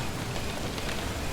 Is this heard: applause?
no